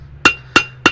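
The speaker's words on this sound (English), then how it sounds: "And use the flat of the hammer to clean it all up." Three sharp, ringing strikes land in an even rhythm as a blacksmith works hot metal with the flat face of a hammer while shaping a leaf, each blow bright and metallic with a short decay.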